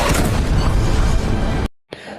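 A loud, heavy explosive boom with a long rumbling roar that cuts off abruptly into brief silence.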